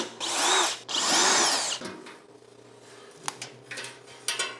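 A power drill drives screws into a table during a home solar battery backup build, two loud whirring bursts close by, followed by quieter clicks and tool handling.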